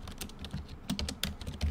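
Fingers type on a computer keyboard, a quick run of close, crisp key clicks in an uneven rhythm with no voice.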